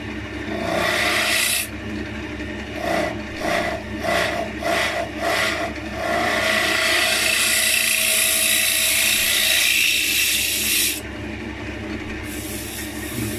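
A scraper cuts spalted beech on a lathe while a mini urn is turned, giving a steady whirring hiss broken by a run of short rhythmic scraping bursts, then a long continuous cut that stops abruptly.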